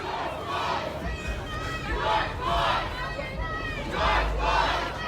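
A protest crowd walks past on a city street, a dense, steady wash of many voices with rising waves of shouting and chanting close by.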